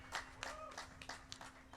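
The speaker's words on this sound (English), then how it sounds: "A round of applause again." Sparse claps from a small audience after a song at a Ganesh festival gathering, a handful of distinct separated hand claps, fairly quiet, with a faint steady hum underneath.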